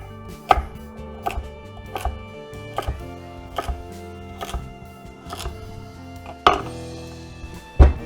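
Knife chopping two small carrots on a cutting board: about a dozen sharp, close, evenly spaced chops at a steady rhythm, with a couple of heavier knocks near the end; no talking.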